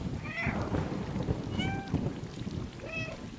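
Cat meows from the video game Cyber City Cat, several rising and falling calls spaced across a few seconds over a rumbling, rain-like ambient bed, with a touch of reverb.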